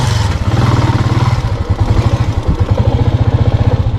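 A motorcycle being ridden, its engine putting out a steady, rapid low thudding pulse with some clatter, close and loud with no talking.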